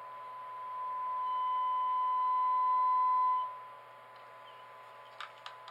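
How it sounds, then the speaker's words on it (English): A steady 1,010 hertz test tone plays through a vintage telephone connected to a Sage 930A test set. The pure, constant tone holds for about two and a half seconds, then cuts off, followed by a few faint clicks. "if I take this phone off hook, you can now hear the tone."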